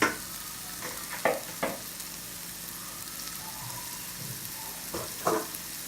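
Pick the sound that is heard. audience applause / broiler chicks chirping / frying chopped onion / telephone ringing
frying chopped onion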